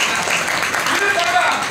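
Crowd clapping for activists at a political gathering, a dense, steady patter of applause lasting under two seconds, with voices mixed in beneath it.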